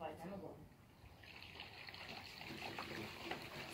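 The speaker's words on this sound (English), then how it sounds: "See, that's water. That's the pipes." Water runs through household pipes at night as a faint trickling, gushing flow. Soft voices and movement noises are heard around it.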